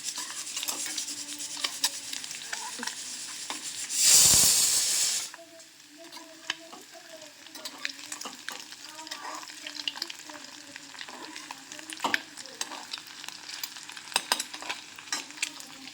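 Eggs for a Maharashtrian hotel-style egg curry frying in a pan until brown and crispy, a steady close sizzle with a loud burst of spattering around the four-second mark, then settling into softer crackling.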